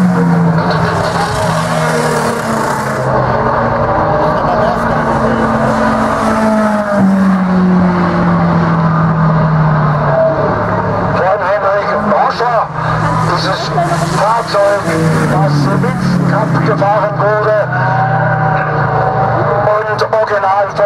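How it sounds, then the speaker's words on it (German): A fast race car at the Oberlausitzer Dreiecksrennen roars steadily and loudly at close range, its engine note rising and falling as it speeds along, with a commentator talking over it throughout. "Wieder dieses SK-Auto, dieses schnelle Auto."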